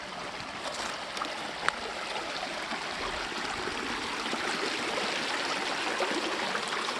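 Creek water flowing steadily through a rocky gorge, a broad continuous rush close by with no talking.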